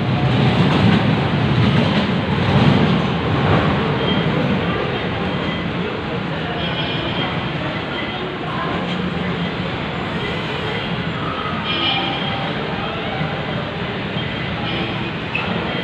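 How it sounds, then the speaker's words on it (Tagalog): A passenger train pulling away from a station on a journey from Cavite to Manila, a steady loud rumble of wheels and rail noise throughout with faint clickety-clack. "Okay, nawalis na yung tren."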